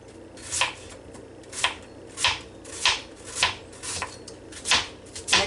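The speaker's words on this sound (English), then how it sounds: "we're just going to get this onion cut up right quick" A knife chops through an onion in a series of about eight crisp, evenly spaced cuts, close and fairly quiet, with no talking.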